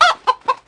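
A chicken clucks four times, short and evenly spaced, loud and close with nothing else around it.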